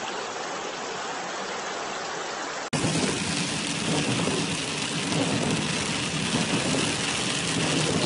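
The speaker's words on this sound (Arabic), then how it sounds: "أمطار غزيرة الآن" Heavy rain pours steadily in Arar, a dense broadband hiss that jumps louder partway through and then holds at a constant close, roaring level.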